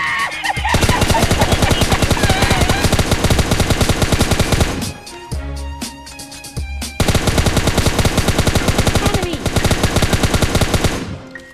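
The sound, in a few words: gunfire in a video game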